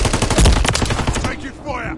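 Rapid automatic gunfire in Call of Duty Modern Warfare 3 multiplayer beta, a dense burst of close, loud shots in quick rhythm that tails off into softer game ambience.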